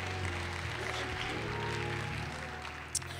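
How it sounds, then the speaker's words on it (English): Congregation applauding at a church episcopal consecration service, a steady dense wash of clapping filling the whole span with a low organ or music hum underneath. "Come on, clap your hands as they come."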